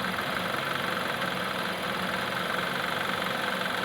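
A Honda CR-V engine idling with its air-conditioning compressor running: a steady, continuous mid-pitched hum and vibration, loud and close, without voices.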